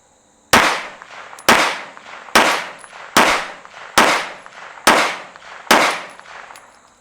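Ten rounds of CCI Blazer ammunition fired through a Strike Industries Mass Driver on a range: seven loud, sharp shots spaced about a second apart, each with a ringing decay, and no talking.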